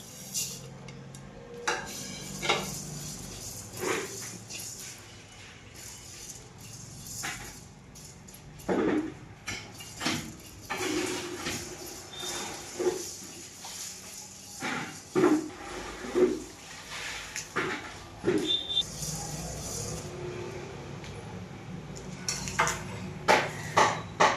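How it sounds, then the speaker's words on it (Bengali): Fennel, cumin and coriander seeds are dry roasted in a pan, with frequent scraping and metallic clinks of a spatula against the pan over a quiet background. "এখানে নিয়েছি মৌরি, জিরে, ধনে। এটা আমি শুকনো কলায় ভেজে নেব এখন।"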